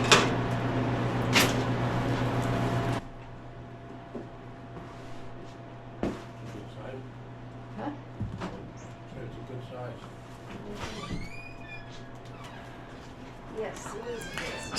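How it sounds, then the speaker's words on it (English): A loud, long-standing squeaking door in a home gives a few high, drawn-out creaks near the end, following louder household clatter and thumps at the start, with quieter room noise between. "Sorry about the loud squeaking door."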